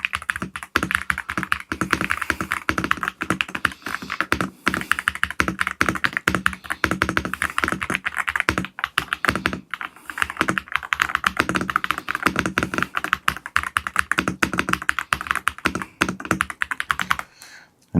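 Someone types steadily on an Elmway K68 Pro 67-key mechanical keyboard, close up, producing rapid continuous clacky keystrokes that bottom out crisply, with no talking.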